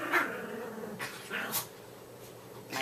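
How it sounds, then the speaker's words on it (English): Several dogs playing indoors, with rough close growls and snarls in short bursts and scuffling between them. "My dogs are playing."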